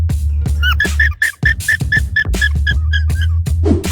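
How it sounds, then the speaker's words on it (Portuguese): Alpacas giving their alarm call when in danger: a rapid run of shrill, squeaky honks, about a dozen in a quick, steady rhythm, loud and close, with a few short breaks between bursts. "Este é o som que fazem as alpacas quando se sentem em perigo."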